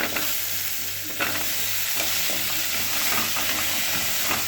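Carrot goes into a hot pot for butternut soup, producing a steady close sizzle and frying crackle with light stirring clinks throughout.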